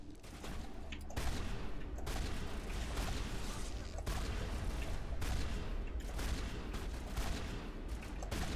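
Sustained gunfire in the shooter game Mass Effect during a firefight with Krogan, dense bursts and booming shots rattling continuously and loud, with a voice speaking underneath.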